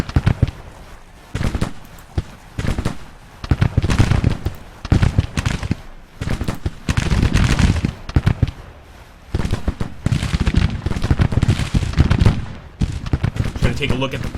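Musket volleys from Civil War infantry lines in the Grand Tactician battle game: repeated ragged crackling bursts of massed gunfire, some near and loud, others more distant, with faint battlefield ambience between volleys.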